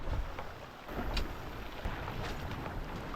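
Big sea waves strike a small boat off Nusakambangan island amid rough wind, a close rushing and sloshing with buffeting wind noise and no speech.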